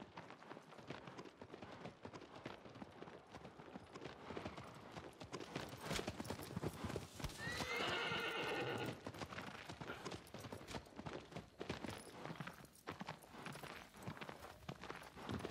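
Horse hooves clip-clop at a steady galloping rhythm in Shadow of the Colossus on PS5, loud and continuous throughout, with a brief whinny-like cry near the middle; no one talks over it.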